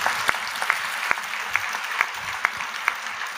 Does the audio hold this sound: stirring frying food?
no